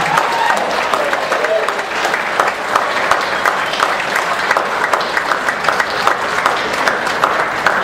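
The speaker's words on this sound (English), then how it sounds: "Let's give them another wonderful round of applause." An audience claps steadily at the close of a Vesna 30th-anniversary performance, with dense, sustained applause filling the room at an even level throughout.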